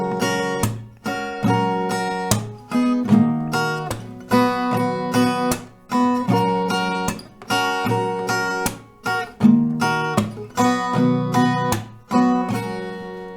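An acoustic guitar strums the chords of a song at a slowed tempo. The chords are full and ringing, with steady rhythmic down and up strokes and short pauses between changes, close up and with no voices.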